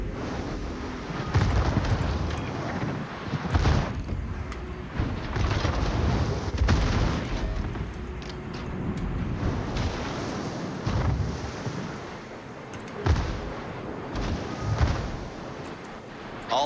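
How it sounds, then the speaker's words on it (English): Heavy warship guns firing salvos in the naval video game World of Warships, with a cruiser's battery booming in a dense, continuous rumble of blasts and explosions, loud and close with no talking. "Concentrate fire on the enemy warship."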